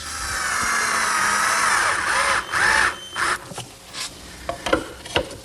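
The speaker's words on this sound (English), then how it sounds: "now I'll center the base on the top and attach it with some screws" A power drill drives screws to fasten a desk base to its wooden top: a whirring run, then several short rising bursts of drilling and screwing close by.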